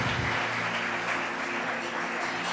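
A church congregation claps together in a steady, dense round of applause that holds at an even level from start to finish, with no voices standing out.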